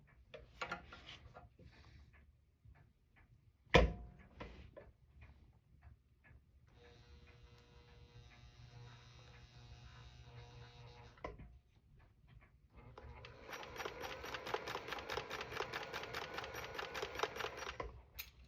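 An old Pfaff sewing machine runs at close range in a quiet room, first a soft mechanical whir with a knock, then a brief pause before a faster, louder stretch of rapid rhythmic stitching clatter.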